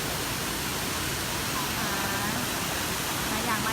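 Tat Ton waterfall in Chaiyaphum province, Thailand, gives a constant, dense roar of falling water, loud and unbroken throughout, heard from near the tiers of the falls.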